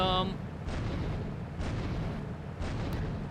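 A tank turret in Grand Theft Auto III fires three heavy booms about a second apart over a low rumbling engine drone, with a brief tone at the start.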